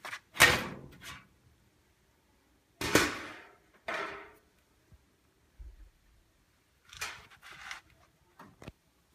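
A furnace blower access panel is unscrewed and pulled off, giving a series of separate metallic clanks and scrapes with quiet gaps between them, close by and with no talk.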